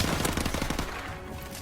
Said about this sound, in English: So the MP5 has a lot of recoil, as I'm sure you can see, but it doesn't matter, you can just hip fire.